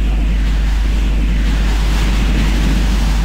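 The Fist of Wind spell from the game Gothic blasts a loud, continuous roaring whoosh of magical wind, dense and unbroken for the whole moment.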